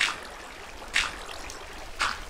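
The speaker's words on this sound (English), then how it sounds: "You might be noticing the water still going." Flowing water in the Minecraft video game during underwater building gives a faint, steady trickle, with three brief louder swells spaced about a second apart.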